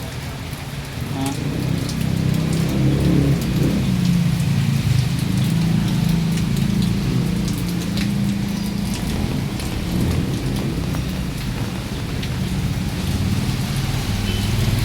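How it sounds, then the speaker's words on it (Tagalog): Heavy rain pours steadily outside a barangay hall, a dense, continuous roar that stays loud throughout with a low rumble underneath and faint voices briefly mixed in. "Lakas ng ulan no."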